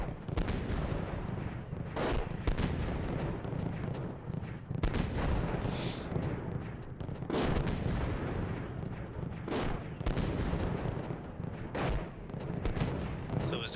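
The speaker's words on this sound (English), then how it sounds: "So is that our artillery or their artillery?" Heavy artillery fire in the Steel Beasts Pro PE tank simulator during a winter operation: repeated loud booming blasts and rumbling impacts, some sharp and near, others dull and distant, over a continuous low roar with no talk.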